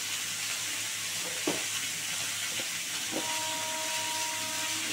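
Chunks of pumpkin and potato fry in a pan with a broad, steady sizzle and hiss, a few soft stirring scrapes and knocks mixed in, heard close with no talking.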